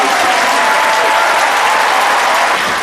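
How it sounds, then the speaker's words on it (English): Loud, dense audience applause after an elementary school show, a continuous roar of many hands clapping at steady volume with no speech over it. "Let's give another round of applause."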